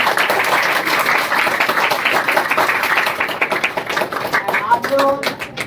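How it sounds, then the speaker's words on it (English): A crowd at a farewell gathering for a batch of spoken-English students claps steadily in a dense wash of applause, with a voice breaking through near the end. "A big clap for your parents for showing their support"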